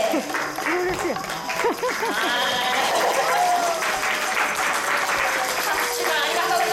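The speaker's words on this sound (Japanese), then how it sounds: "拍手ありがとうございます" Applause from an audience during a tabletop paper sumo match with a Kumamon wrestler, steady and moderately loud across the whole stretch under a person talking.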